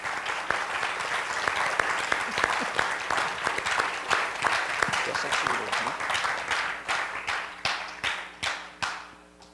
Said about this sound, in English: Let's begin by giving a nice round of applause to our co-directors this evening.